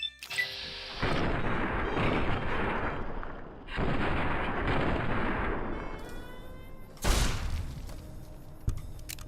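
Pistol gunfire in Fallout: New Vegas, Old World Blues DLC: a few heavy, booming shots with long rumbling tails, spaced seconds apart and ending in a sharp loud report.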